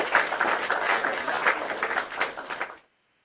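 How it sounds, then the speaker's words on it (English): An audience claps hands together in a dense, even burst of applause that holds steady, then fades and stops abruptly into silence. "they clap hands for us"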